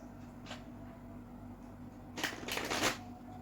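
Tarot cards shuffled and drawn during a card reading: a quiet room, then a burst of riffling and flicking cards lasting about a second, close and fairly soft, with no voices.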